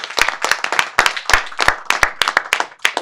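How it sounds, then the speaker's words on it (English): A live audience claps for Edith, a guest speaker at an advocacy talk: a spread of separate hand claps, fairly close and moderately loud, repeating briskly for about three seconds without any voices. "So let's have a round of applause,"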